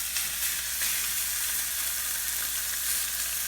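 A rockfish fillet sears in a hot pan just after being flipped, giving a steady, bright, close sizzle that holds evenly throughout with no talking.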